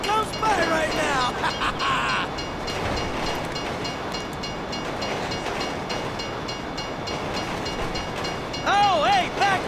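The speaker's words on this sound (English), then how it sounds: "the train comes by right now!" A train rumbling past in the video game GTA 5, a steady broadband roar of rail cars running the full length, with bright tonal game sounds at the start and end and voices faintly under it.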